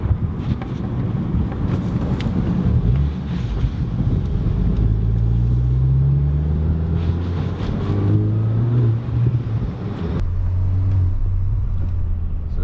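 VW Golf MK8 GTI with an X Force exhaust in sport mode, a steady loud low droning rumble that rises and falls in pitch as the car pulls through the revs, with wind buffeting over it and no voices.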